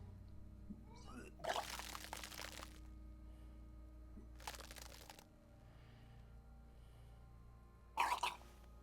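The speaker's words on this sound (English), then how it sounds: "Your body curls and pushes it out, burst by burst, until a pool of vomit lies under your feet" Character vomiting in the video game Disco Elysium, three separate bursts of wet gushing and splattering, the first longest, spaced apart over a low ambient hum.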